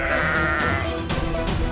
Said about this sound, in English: the sheep in the pen grew very frightened, and then Mary and Mark saw